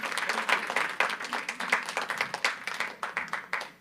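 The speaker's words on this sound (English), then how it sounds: "one big round of applause to Dr. Dhiren Seth" A small audience at a temple senior day applauds Dr. Dhiren Seth, clapping that starts fairly full and thins into a handful of distinct, rhythmic claps near the end.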